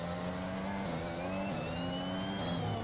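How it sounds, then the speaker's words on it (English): A Honda Formula 1 car engine in an F1 racing video game, a continuous high-pitched whining roar with the pitch climbing and dropping across gear changes, steady and prominent with no talk. "Because at the minute this Honda engine isn't the fastest."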